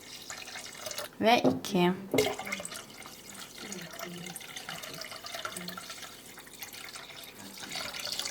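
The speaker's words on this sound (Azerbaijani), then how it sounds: "Bunun da üzərinə 2 litr su əlavə edirəm. 1 litrini tökürəm." Water poured into homemade lemonade, a splashing, gurgling stream heard up close while someone talks over it in Azerbaijani, the pour loudest in a short burst early on before settling into a softer trickle.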